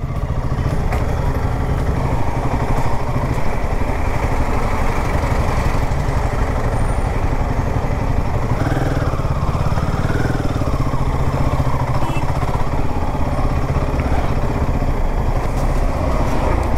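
Royal Enfield Himalayan 450 motorcycle crawling at walking pace in commute traffic, its engine a steady, loud low rumble close by, running continuously with no pauses and no talk over it.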